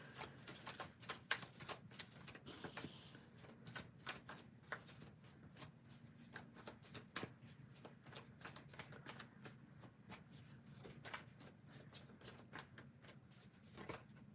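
Tarot cards are shuffled repeatedly, their quick riffling clicks and snaps coming in bursts over a low, steady background hum.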